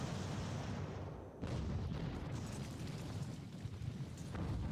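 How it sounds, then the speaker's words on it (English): Continuous naval cannon fire from an Age of Sail battle in the video game Ultimate Admiral: Age of Sail, a dense, loud rumble of overlapping booms that barely lets up, with one brief dip before it surges again. "Got 106 men firing cannons."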